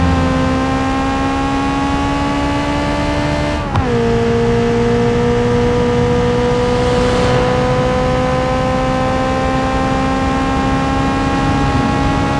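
A Covet car engine in BeamNG drones at steady high revs, with a quick dip and shift around a third of the way in before holding a smooth, loud, sustained tone.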